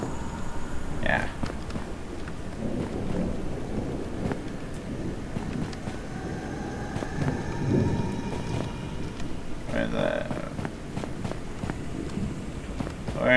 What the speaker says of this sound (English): Look at that thunder!